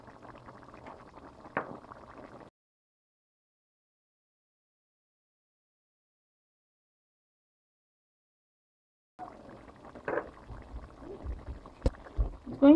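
Eggplant and tomato stew, a Ghana-style garden egg stew, bubbles in a pot with a low, soft gurgle. It is heard at the start, cuts to silence for several seconds, then returns with a few louder pops and clunks.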